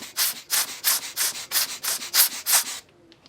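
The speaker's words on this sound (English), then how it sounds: "Then I took my rocket blower." A rocket blower puffs air onto the back monitor of a Nikon Z6III: about ten quick, evenly spaced hissing bursts up close, then quiet.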